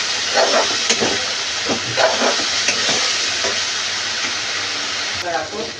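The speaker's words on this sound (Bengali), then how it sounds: "এবার মশলাটা ভালো করে কষিয়ে নেব।" Ginger-garlic spice paste sizzles and fries steadily in a pan, a continuous hiss with stirring scrapes throughout, while a person talks intermittently over it.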